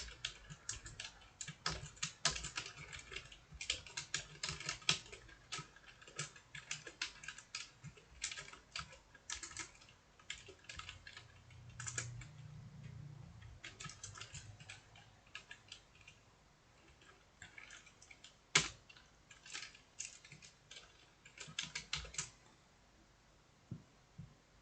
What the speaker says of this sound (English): let me type this XML code real quick